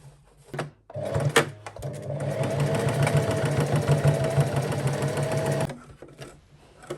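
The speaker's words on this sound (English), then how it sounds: "I'm going to stitch that with a straight stitch now on my sewing machine" A sewing machine runs steadily through a straight line of stitches securing 1 inch elastic on a tube dress, a fast even mechanical whir lasting several seconds, with brief handling clicks before and after.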